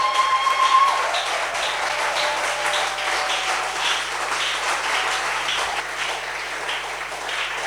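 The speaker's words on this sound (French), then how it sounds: "kobeta maboko pona nkolo." A church congregation claps for the Lord during a French and Lingala service, a dense, steady wash of many hands applauding together that holds evenly throughout without a break.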